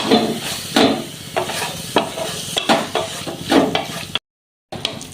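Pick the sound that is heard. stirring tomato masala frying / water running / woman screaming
stirring tomato masala frying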